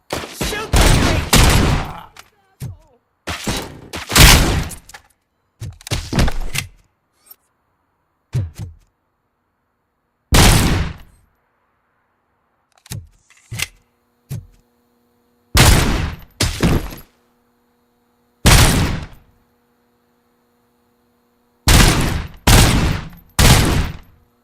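Gunfire in the video game Robocop: Rogue City: short loud bursts of shots in irregular clusters separated by silent gaps, with a faint hum running underneath in the middle.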